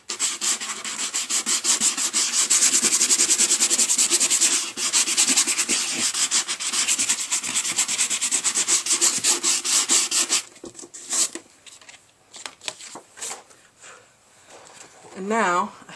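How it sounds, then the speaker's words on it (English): A handheld sander lightly sands a sheet of black cardstock, a steady raspy rubbing that runs loud and continuous for about ten seconds, then breaks into short scattered scrapes and handling noises; a voice speaks briefly near the end. "And I'm just going to sand him lightly"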